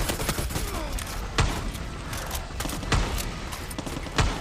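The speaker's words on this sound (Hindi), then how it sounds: "ये तो बम पे बम गिराए जा रहे हैं हम पे।" Far Cry 6 gameplay with bombs dropping and gunfire: a dense, continuous rumble of battle broken by several sharp, loud blasts spaced roughly a second and a half apart.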